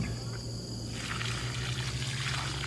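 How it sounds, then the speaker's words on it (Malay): Water poured from above onto soil around a garden plant gives a steady, fairly faint splashing trickle that starts about a second in and continues, over a low background hum with no talk. "Kita bubuh lagi air di atas tu."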